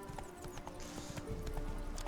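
Horse hooves clip-clop in a steady trotting rhythm with a brief whinny, from the horse in The Witcher 3 video game, heard close over a busy game soundscape.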